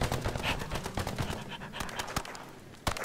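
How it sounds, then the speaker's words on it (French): Rapid bursts of gunfire in the co-op shooter EarthFall, with sharp repeated shots crackling at close range over a dense battle din and no talk. "il y a des snipers, il y a des fusils à pompe, les bruitages sont pas dégueulasses"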